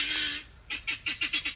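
A guinea fowl gives a sustained harsh note, then a quick run of five or six rhythmic, scratchy calls, close by.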